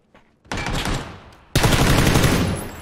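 Loud automatic gunfire in the battle royale shooter PUBG on the Miramar desert map, two close sustained bursts of rapid shots, the second heavier and longer, with no talk over it.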